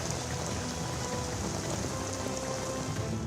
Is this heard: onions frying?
no